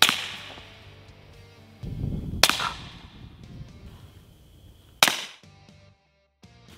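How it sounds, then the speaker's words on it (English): Suppressed rifle shots at wild hogs inside a trap: three sharp, loud cracks spaced a couple of seconds apart, each with a quick decaying tail, with a brief spoken word. "Using suppressed rifles, the hogs are dispatched inside the trap."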